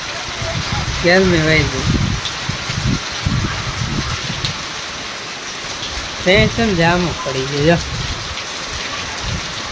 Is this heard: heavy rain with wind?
yes